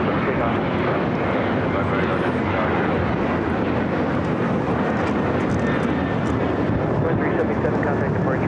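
An airliner roars on its takeoff run from runway 25 right at LAX, a steady, loud, broadband jet rumble that holds without a break from start to finish, with radio talk faintly over it.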